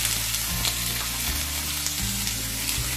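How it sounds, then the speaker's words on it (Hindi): Capsicum and onion sauté in hot oil in a pan, giving a steady close sizzle with a constant bright frying hiss and no voices. "2-3 मिनट के लिए सौते करेंगे।"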